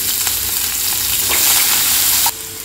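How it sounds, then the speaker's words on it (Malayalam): Onion, garlic, ginger, green chili and curry leaves sizzle steadily in a hot pan for a fish molee, a loud continuous fry with faint stirring scrapes and no talking. "ഇനി ഇതിലേക്ക് ഞാൻ നേരത്തെ അരിഞ്ഞു വെച്ചിരുന്ന സവോള, വെളുത്തുള്ളി, ഇഞ്ചി, പച്ചമുളക്, കറിവേപ്പില എല്ലാം ഒരുമിച്ചിട്ട് വഴറ്റിയെടുക്കുകയാണ്."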